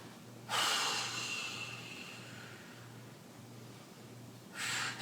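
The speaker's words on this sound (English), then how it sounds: "A couple deep breaths." Two deep breaths during a glute exercise routine: a long, close airy inhale-exhale lasting about two seconds, then a quiet pause and the start of another breath at the end, over a faint low hum.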